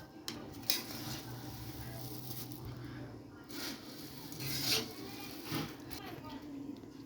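Food being stirred and fried in a pan with a little salt and chili powder, the spoon scraping and clinking against the pan while a person talks over it.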